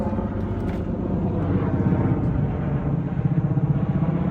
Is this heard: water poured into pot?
no